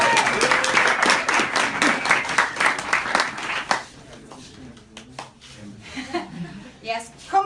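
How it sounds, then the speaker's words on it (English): Applause and clapping welcome comedian Tim Dingle onstage at a business club launch party, loud and dense for nearly four seconds before thinning into scattered claps with chuckles and murmuring from the crowd. "give a big round of applause, invite Tim Dingle to the stage"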